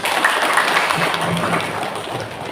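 A crowd at an Indonesian business gathering claps, a loud, dense wash of applause that stays steady throughout the short stretch.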